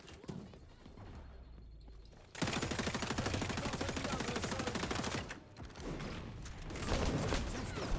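Sustained automatic gunfire empties a full magazine into an enemy's shield in the shooter XDefiant, a dense loud rattle running for several seconds, pausing briefly and then resuming.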